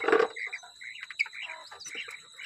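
Caged quail call in short, sharp chirping bursts close by, starting with one loud cry and then a steady stream of smaller calls over a constant high background hum.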